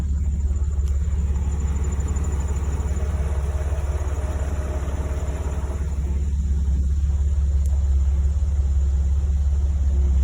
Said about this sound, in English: we're in first gear, low range, and we'll just let it crawl